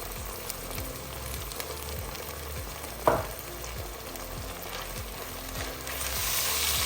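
Okra masala with cumin, coriander and fenugreek leaves fries in a pan over high heat with a soft, steady sizzle. A brief clatter of stirring and a gentle background hum accompany it, and no voices are heard.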